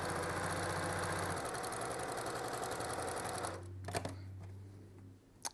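A sewing machine runs fast and steady, stitching a quarter-inch quilt seam for a pinwheel quilt, then stops, followed by a few faint clicks and handling sounds.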